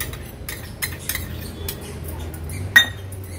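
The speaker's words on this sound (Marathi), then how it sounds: "व्यवस्थित मिक्स करून घेऊया" A spoon clinks against a bowl while yogurt koshimbir salad with salt and a little sugar is mixed. A few light, scattered taps, one louder clink near the end, close and quiet.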